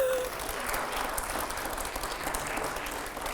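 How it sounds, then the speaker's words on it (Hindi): A studio audience at a televised Hindi debate show with Swami Ramdev and five editors claps steadily, a dense wash of applause that holds at an even level throughout. "जोरदार तालियां हो जरा"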